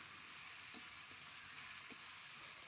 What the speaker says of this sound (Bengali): এই মশলার ভিতরে শুটকি দিয়ে বেশ কিছুক্ষণ ভাজতে হবে।